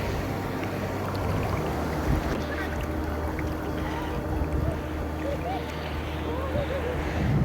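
Sea waves washing onto the beach at Mandarmani, a steady, loud rush of surf mixed with wind buffeting the microphone, while a person talks over it throughout.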